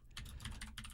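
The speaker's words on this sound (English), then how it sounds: "when I'm typing on stream" Typing on a computer keyboard during a live stream, a brief close flurry of quick, steady key clicks for about a second, with no talk.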